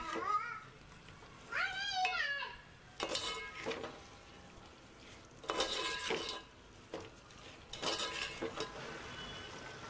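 Gongura chicken mixed in a pot just after the lid comes off, with several bursts of spoon scraping and clinking against the metal pot, close by, interrupted by a short high squeaky whine near the start.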